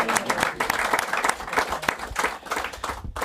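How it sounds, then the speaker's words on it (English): Short burst of studio audience applause on a football talk show, lively uneven clapping with a few distinct sharp claps, cut off abruptly at the end. "And a big round of applause"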